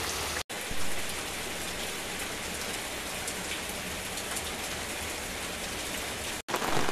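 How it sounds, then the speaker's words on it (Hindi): Heavy rain pours steadily, a dense, loud hiss of drops drumming on surfaces and an overhead umbrella, continuous throughout apart from two very brief dropouts. "ये देखिए माशाल्लाह क्या गजब की बारिश हो रही है, बहुत अच्छी बारिश हो रही है।"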